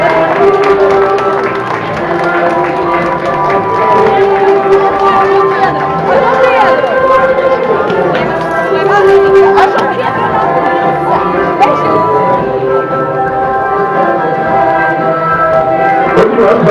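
Crowd applauding the Centro Social de Santa Maria de Serradora march at the São João festival in Castelo de Paiva, Portugal; steady clapping and chatter over loud festive music and a nearby announcer's voice throughout.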